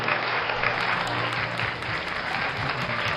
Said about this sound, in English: Give a biggest round of applause for all the awards she is receiving.